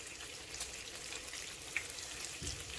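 Sausage patties frying in a pan, a steady soft sizzle and crackle running throughout with a few small pops, fairly quiet, no talking.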